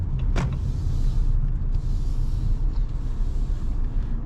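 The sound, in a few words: Jeep Compass Limited 1.3 T270 car parking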